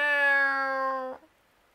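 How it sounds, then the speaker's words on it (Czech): A single long, clear meow from a cat in a Halloween-themed skit, loud and close, tapering off into silence with no talking over it. "Od kdy vlkodlaci mňoukaj?"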